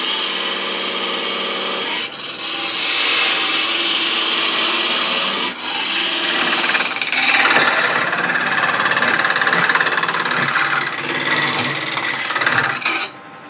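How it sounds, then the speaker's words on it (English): A wood lathe spins a workpiece while a parting tool cuts into it, giving a loud, continuous rasping scrape with brief breaks as the tool is lifted and reset. "Now we're going to make a second part about at least halfway the thickness of the parting tool so it won't bind."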